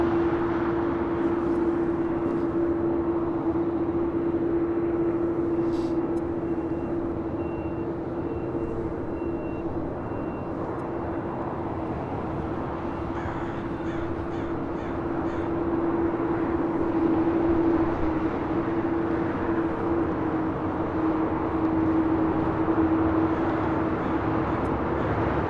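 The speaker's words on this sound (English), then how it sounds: "Flight 38 coming in from Tokyo Haneda in the 787-10 Dreamliner" A Boeing 787-10 Dreamliner arriving at LAX from Tokyo Haneda, a steady distant jet roar with a sustained engine tone, alone over a constant background rumble.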